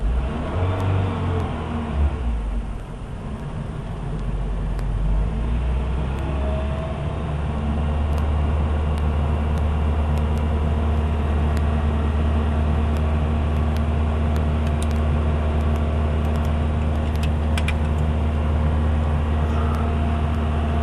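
The engine of a 1986 Toyota 4Runner, tested on a cold morning, revs up and settles into a steady, loud, close rumbling hum that holds for a long stretch.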